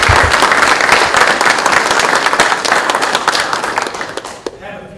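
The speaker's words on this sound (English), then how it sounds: "if we could have one round of applause for all of them" Audience applause at a high school military commitment ceremony, a dense, steady round of clapping from a large crowd that holds for several seconds and then thins out and stops near the end.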